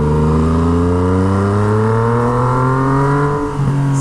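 Yamaha MT-09 motorcycle with a straight-pipe Toce exhaust, heard from the rider's position: a loud, raw engine roar climbing steadily under acceleration, then a quick shift, with no talking.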